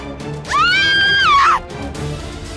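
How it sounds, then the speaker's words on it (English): A single loud scream from a character in the Re:ZERO Prophecy of the Throne video game, rising sharply, held for about a second, then falling away over quiet background. "Yeah, scream!"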